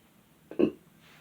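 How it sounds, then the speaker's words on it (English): A single short, low throaty burp close to the microphone in an otherwise quiet room. "And then I burped, so it's something here."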